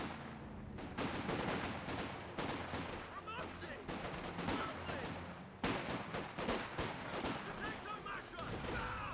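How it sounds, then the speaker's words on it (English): Infantry gunfire in Company of Heroes 2, with Jaeger light infantry squads trading shots: dense, continuous rattling bursts and overlapping rifle and machine-gun fire, loud and close, with sharp breaks as the volleys shift. "We're seeing a bit of fire from these infantry sections."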